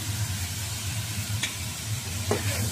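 Vegetables with carrot shreds and chili are stir-fried in a pan at home, giving a steady close sizzle throughout with a couple of faint scraping strokes of the utensil and no talk.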